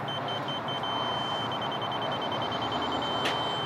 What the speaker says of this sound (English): as I get closer to the line, that arrow decreases until it turns into a solid beep